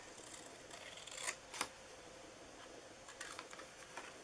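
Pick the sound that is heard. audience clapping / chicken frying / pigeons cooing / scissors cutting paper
scissors cutting paper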